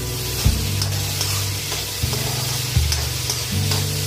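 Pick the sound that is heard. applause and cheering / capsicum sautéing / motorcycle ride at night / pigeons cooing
capsicum sautéing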